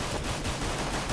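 Rapid gunfire from CS:GO rattles in a fast string of closely spaced shots, quiet and slightly distant, with no voices over it.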